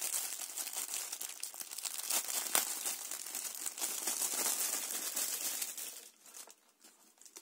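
Plastic bag crinkling and rustling close by, continuous for several seconds, then trailing off into quieter handling near the end.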